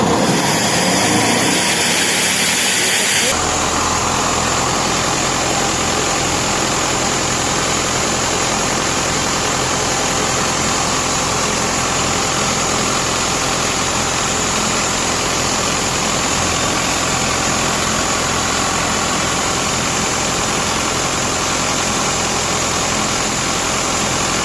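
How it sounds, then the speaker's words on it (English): An XP375-WCU air compressor with a starting fault comes to life after a short noisy lead-in, then runs as a loud, steady engine roar that holds unchanged for over twenty seconds. "So as you saw, now as my compressor is easily starting."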